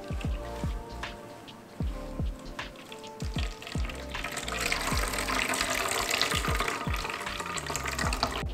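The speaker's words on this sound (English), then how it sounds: "now we're going to filter all the coconut milk first." Coconut milk being poured and strained while a sea moss shake is made, a steady liquid gush and splashing that grows denser and louder halfway through, with sharp knocks and clatters scattered throughout.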